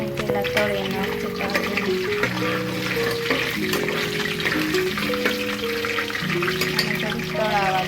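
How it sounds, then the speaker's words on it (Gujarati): Cashews fry in hot oil with a constant close crackling sizzle, heard beneath a steady tonal background layer throughout. "કાજુ છે ને પહેલાં તળી નાખશું."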